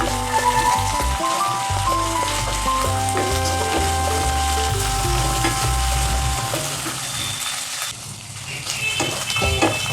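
Onion and ginger garlic paste fry with a loud, continuous sizzle in a pan for Nepali-style cabbage curry, with stirring scrapes and a steady hum underneath and a brief dip in the sizzle near the end.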